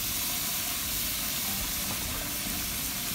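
Water poured into a hot wok mid stir-fry of petai beans with dried prawn sambal and minced meat, giving a loud, steady, broadband steam hiss and sizzle that fills the whole stretch.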